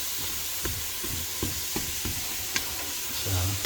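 Onions sautéing in a pot for homemade potato soup, a constant close frying hiss with light clicks and taps from stirring.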